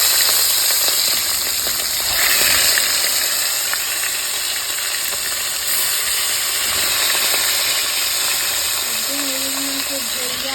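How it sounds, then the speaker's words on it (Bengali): Rohu fish pieces frying in hot oil in a home kitchen give off a steady, dense sizzle with crackling that stays loud and continuous throughout, with faint background noise and a brief tonal hum near the end. "তেল গরম হয়ে গেছে মাছটা ভেজে নেবো"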